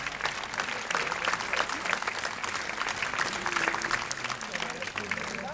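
An outdoor audience claps steadily for a jazz funk big band at a town square concert, a thick continuous wash of applause with a few voices mixed in.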